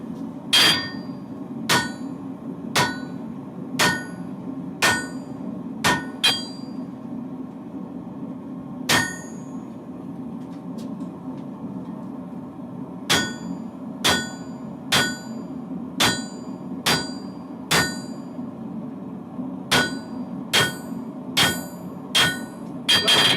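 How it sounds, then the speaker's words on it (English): Light hammer strikes planish metal in a cold workshop, each blow a bright ringing clang, spaced about a second apart in runs with pauses between, over a steady low background hum. "planishing is just light hammer strikes"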